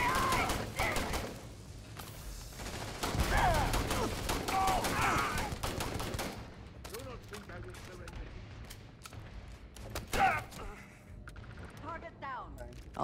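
Turrets firing in the space game Starfield, with repeated bursts of gunfire rising and falling across the stretch, some dense and loud, others sparse and further off, and a voice talking over parts of it.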